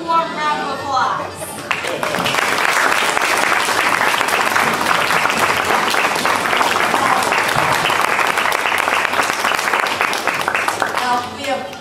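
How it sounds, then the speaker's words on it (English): Audience applause closing a cartoon circus show: dense, steady clapping from a crowd sustained for about ten seconds, loud and continuous before fading slightly at the end. "Let's give our seemingly talentless performers one more lukewarm round of applause."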